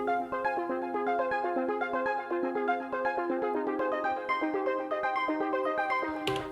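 Two Elektron Digitone synth arpeggios layered in a techno jam, the same sequence on two tracks panned slightly left and right, forming a dense, shimmering stream of rapid plucked notes, steady and close.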